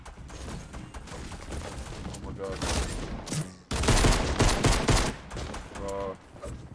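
Gunfire in the video game Fortnite, rapid bursts of shots in two loud clusters with brief gaps, heard alongside game sounds and a player talking.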